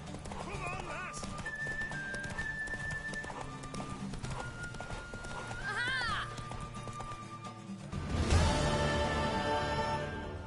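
A horse gallops and neighs during a race in The Witcher 3: Wild Hunt, with rapid hoofbeats, whinnies and loud crowd and voices over a surge near the end.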